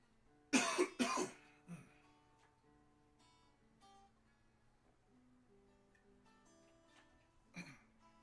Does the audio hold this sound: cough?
yes